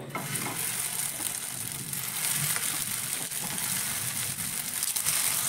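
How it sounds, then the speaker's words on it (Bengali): Semolina tiffin snacks deep-frying in hot oil give a steady, close sizzle with faint crackle throughout, with no talk over it. "এই টিফিনগুলো লাল লাল করে ভাজা হয়ে গেছে।"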